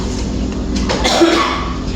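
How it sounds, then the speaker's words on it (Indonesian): A single muffled cough from a teacher lands near the middle, short and fairly close, over low classroom noise. "Mohon maaf sebelumnya Bapak batuk ya."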